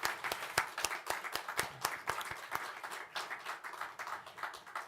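A church congregation applauds during a Sunday worship service, a modest, steady patter of hand claps with a few sharper individual claps standing out, fairly close and moderately quiet, with no voices.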